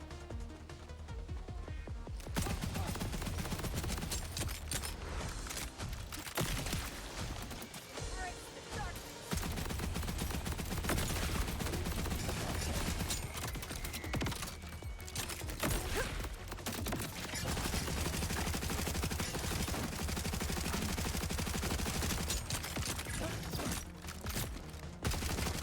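SMG fire in the shooter game Borderlands: near-continuous, loud, rapid bursts that run almost unbroken for the full stretch, with only brief gaps between strings of shots.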